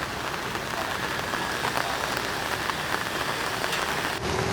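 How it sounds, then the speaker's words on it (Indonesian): Steady rain falls at a roadside, a dense continuous hiss of drops on surfaces that stays even and fairly loud throughout, with no talking. "dan kebetulan ini hujan, pasti ada suara hujan juga"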